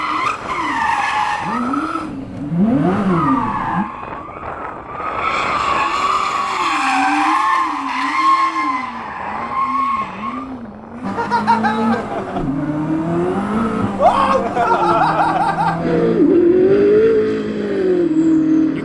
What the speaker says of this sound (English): Oh wait, they allow you to do donuts in that car?